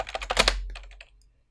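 Fast, close keystrokes on a computer keyboard typing into a terminal on a caller ID text overlay setup, a dense clatter of clicks that thins out and stops after about a second.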